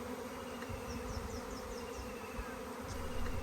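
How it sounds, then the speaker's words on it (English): A honey bee swarm gathered around its queen high in a tree, heard as a faint, steady insect buzz with a few brief higher whines passing through. "I'll have a big ball of bees up there soon."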